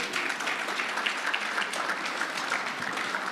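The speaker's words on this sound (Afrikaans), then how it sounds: "Gee julle self 'n hande klap." An audience claps their hands together, a dense, even burst of applause that holds steady at a moderate level throughout with no voices over it.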